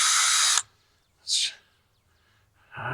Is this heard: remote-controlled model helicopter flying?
no